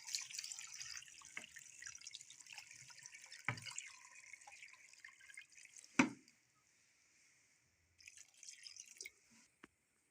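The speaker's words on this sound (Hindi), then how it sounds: "1 लीटर इसमें पानी डाल देंगे।" Water is poured into a pressure cooker for mutton karahi, heard as splashing and dripping for several seconds, with a sharp clank partway through before it trails off into quieter trickles and drips.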